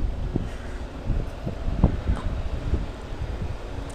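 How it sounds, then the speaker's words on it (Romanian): A light breeze blows outdoors on a warm weekend city walk, a soft steady rush with low microphone buffeting and faint distant background noise. "cam adie vântul"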